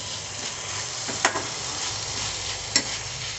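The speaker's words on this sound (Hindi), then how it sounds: "तो आलू अभी देखिए सही से पके नहीं है, तो इसको फिर हम एक बार चलाएंगे अच्छी तरह से" Partly cooked potatoes are stirred in a sizzling pan while being cooked as a sabzi without tomatoes, giving a steady frying hiss with two sharp spoon scrapes against the pan, close and clear, with no talking.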